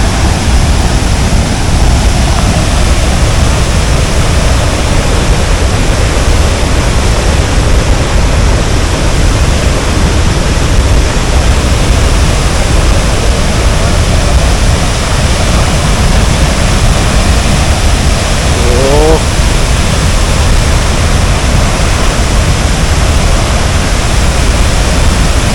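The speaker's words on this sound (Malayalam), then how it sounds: "അങ്ങനെ നമ്മൾ ആതിരപ്പള്ളി വെള്ളച്ചാട്ടത്തിന്റെ അടിഭാഗത്തായിട്ട് വന്നിട്ടുണ്ട്," Athirappilly waterfall roars as a dense, continuous broadband rush, very loud and steady throughout at the base of the falls.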